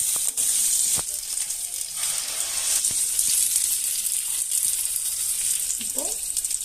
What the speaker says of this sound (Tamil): சின்ன வெங்காயம் நல்லா வதங்கினதும் நம்ம அரைச்சி வச்சிருந்த விழுதை ஆட் பண்ணிக்கலாம்.